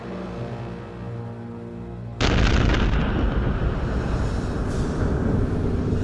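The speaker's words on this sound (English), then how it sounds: "The true voice of Cape Town's noon gun has made itself heard." The Cape Town noon gun, a cannon, fires once after a quiet hum, a single loud booming blast that rolls on into a long reverberating rumble.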